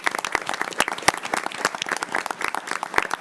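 An audience at a Board of Education meeting claps in a brief, dense round of applause, steady and fairly close with no talking over it.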